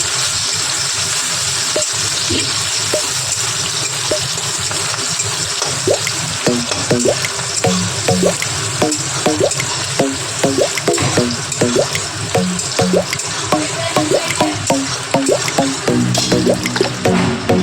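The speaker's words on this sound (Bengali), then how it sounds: "পেঁয়াজটা ভালো করে ভেজে নেব।" Two medium chopped onions fry in a pan, a steady loud sizzle with frequent crackles and spatula taps throughout.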